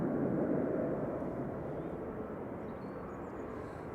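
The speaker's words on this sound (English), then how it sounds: "Legacy A330-300G EIDY departing there to New York JFK with flight 45." An Airbus A330-300 departing Manchester Airport roars from a distance, a broad, steady jet rumble that is strongest at first and then eases slightly as the aircraft climbs away.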